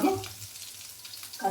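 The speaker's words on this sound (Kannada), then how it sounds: "ಹಸಿಮೆಣಸಿನಕಾಯಿ ಹಾಕೋಣ. ಇದಕ್ಕೆ ಸ್ವಲ್ಪ ಫ್ರೈ ಆಗಬೇಕು ಎಣ್ಣೆಯಲ್ಲಿ." Green chillies frying in hot oil during cooking for a shenga chutney, a soft, steady low sizzle that is louder at the start and end, with no talk.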